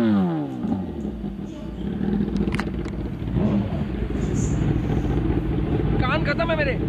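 A Kawasaki ZX-10RR sport motorcycle engine idles and revs steadily up close, a loud continuous roar with small rises in pitch.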